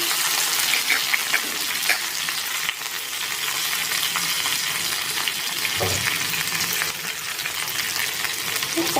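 Finely chopped onion and curry leaves frying in oil for a bitter gourd dish, a loud, dense, continuous sizzle heard close up, steady throughout with a few faint stirring knocks.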